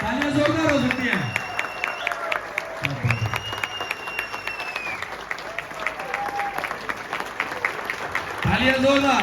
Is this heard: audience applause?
yes